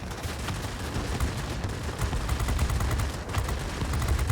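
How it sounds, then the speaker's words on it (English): Gunfire in the World of Warplanes video game as a warplane comes under attack, a dense, continuous rattle of rapid shots over a low rumble, loud and unbroken. "I am being shot to shit, and my accuracy is not the best currently."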